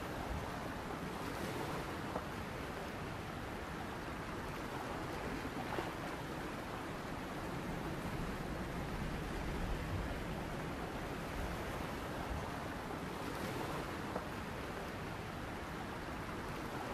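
Calm inland sea waves in a video game scene, a steady, even wash of surf with soft wind noise, continuous and moderately loud, with no voices.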